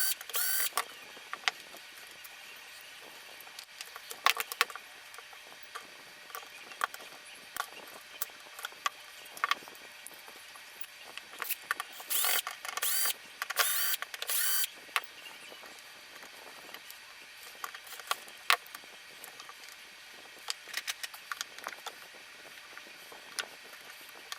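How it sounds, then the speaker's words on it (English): Small plastic and metal parts click, tick and rattle faintly while the motor and shell are taken off an airsoft gearbox, a long quiet stretch of scattered handling noises. "we can go ahead and actually take the motor off and the actual shell off the gearbox"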